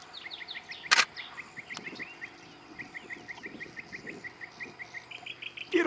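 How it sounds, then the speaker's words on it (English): A clay-colored sparrow sings outdoors at a park near a playground, giving faint, rapid buzzy trills repeated in short series, with distant insects and a couple of louder nearby clicks. "I'm hearing a clay-colored sparrow over here."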